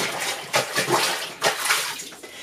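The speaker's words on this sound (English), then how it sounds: "what I do is I fill up my washing machine with water" Water pours and splashes into a washing machine tub, a close, broadband rushing and sloshing sound that rises and falls in several surges, with no voices.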